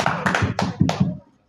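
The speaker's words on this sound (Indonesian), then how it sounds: "Tepuk tangan dulu." A small group claps hands in a few quick, sharp bursts at a children's Islamic quiz competition, loud and close, then stops abruptly.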